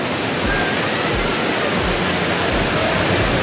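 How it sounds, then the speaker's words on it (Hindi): Barabakhra waterfall in Bargarh, Odisha, roars as a loud, steady, dense wash of falling water that fills the whole clip without any break. "तो आप भी देखिए बारह बखरा वाटरफॉल"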